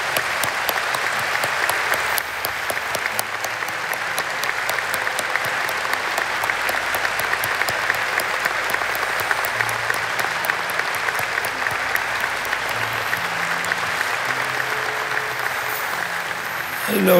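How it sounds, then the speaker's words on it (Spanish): A congregation at a Bible study gives sustained, loud applause, a dense continuous clapping lasting the whole stretch, with faint murmuring and a low hum beneath it. "Por eso vamos a darle otro fuerte aplauso más a Dios."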